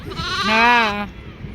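A single loud, close bleat of a sheep, lasting about half a second, with faint background noise around it.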